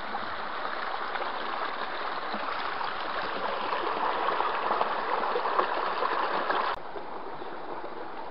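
Water sloshes and swirls as gravel is panned for gold in a pan at Tyndrum, Scotland, a steady close rushing wash that drops slightly toward the end, with no speech.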